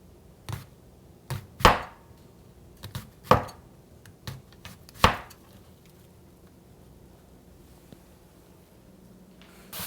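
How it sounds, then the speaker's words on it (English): A knife slices through onions on a cutting board for a homemade gefilte fish stock, giving about seven crisp, separate chops at an uneven pace, close and clear, before a quiet stretch. "Now we're going to slice up some onions that we're putting in the bottom of the pot to make"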